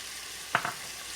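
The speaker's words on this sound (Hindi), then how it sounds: "और साथ में ये ब्लैक सीड यानी कलौंजी डाल के हम अच्छी तरह से मिक्स कर लेंगे" Nigella seeds with crushed chillies, cumin and mustard seeds stirred in hot oil: two quick faint scraping swishes over a soft background sizzle.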